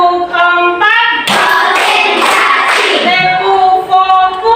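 A class of schoolchildren claps along with a teacher's counting routine, loud close sets of hand claps mixed with children's chanting voices.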